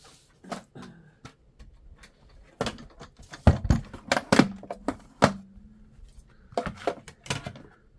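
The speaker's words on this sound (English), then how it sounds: "I'll bring in my die cut machine. We're going to die cut these out." A die cut machine crunches through card pieces for a fold-and-flip craft project, giving sparse sharp clicks and clacks with a longer mechanical rumble near the middle, all close and fairly quiet without any voices.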